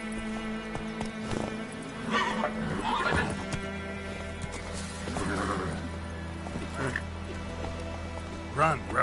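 Roach the horse from The Witcher 3 galloping with steady hoofbeats while whinnying and neighing, set against game music and a voice speaking over the action.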